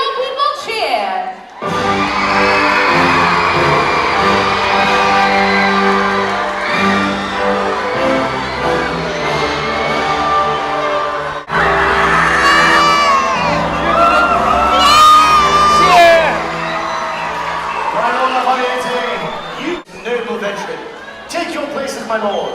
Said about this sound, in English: Turn and hear your people cheer.